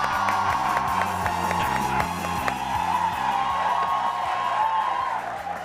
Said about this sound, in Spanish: un fuerte aplauso para Pichas y Cachas